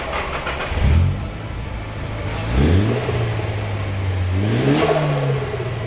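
A BMW E30 fitted with a swapped 2-litre turbo engine revs several times nearby, each blip rising and settling back to a rough idle, loud and alone without speech.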